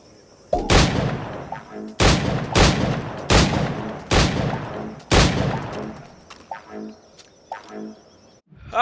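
Pistol shots ring out in Assassin's Creed Black Flag as targets are hit, five loud, sharp cracks spaced about a second apart, each trailing a brief decay, followed by quieter clicks and clatter near the end.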